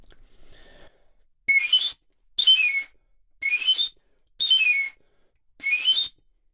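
Five short ascending whistle runs from a Mexico City knife sharpener's pan pipe, evenly spaced with pauses between, clear and close, no talking.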